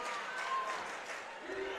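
A high school basketball crowd in a gym roars and applauds steadily after a technical foul, with voices mixed into the noise.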